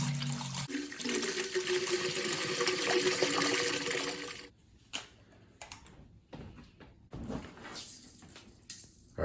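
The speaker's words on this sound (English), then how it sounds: "we are now going to attempt to fill the humidifier here" Water pours steadily into the tank of a TURBRO Greenland GLH20 humidifier, a loud continuous rushing fill for about four seconds, then quieter intermittent splashes and trickles as the flow stops and starts.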